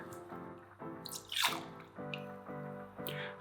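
Gin poured into a cocktail shaker, a faint, close trickling and dripping with gurgling pitched notes in short bursts over a few seconds, no voices.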